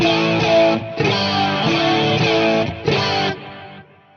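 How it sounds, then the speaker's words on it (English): Sustained distorted electric guitar chords swell and repeat with a wide, shimmering echo trailing off at the end; no voices. "I want to send in some stereo delay"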